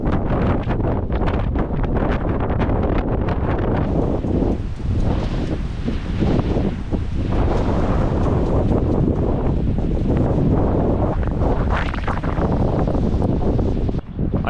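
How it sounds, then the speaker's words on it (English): Strong wind buffets a caravan parked somewhere remote and wild, a continuous loud roar with gusts swelling and easing throughout and no voices. "I just need to show you what this wind is like."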